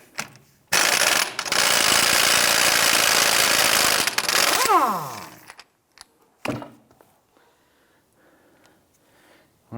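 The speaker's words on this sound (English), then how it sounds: "Using a 32mm socket, loosen and remove the axle nut." A socket tool on the 32mm axle nut of a 2008-2013 Nissan Rogue gives a loud, continuous mechanical rattle of about four seconds that winds down, followed by a few scattered clunks and faint handling noises.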